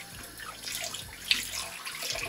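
Tap water running steadily into a kitchen sink while oxtail is rinsed for a Jamaican oxtail dish, a soft continuous hiss and patter with no talk.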